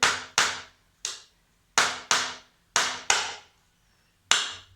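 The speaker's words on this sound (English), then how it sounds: "We're going to nail them in where I want the wire to go and be tight" Sharp hammer strikes driving small finish nails into wood, eight crisp, close blows in irregular clusters with short decays and brief pauses between them.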